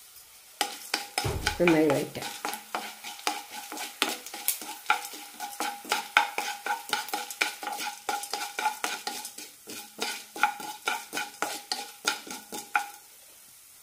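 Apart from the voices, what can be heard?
cumin and coriander seeds sizzling in a pan for horse gram curry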